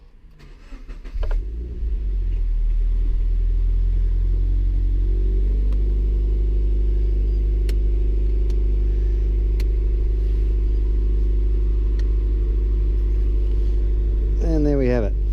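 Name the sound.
Toyota 86 GTS engine starting and running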